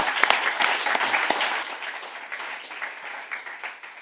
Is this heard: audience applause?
yes